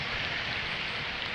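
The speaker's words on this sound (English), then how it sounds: "Whoa, the rain's coming down." Heavy rain beside a grayling stream makes a dense, even hiss of drops striking nearby surfaces, steady and close for the whole brief moment.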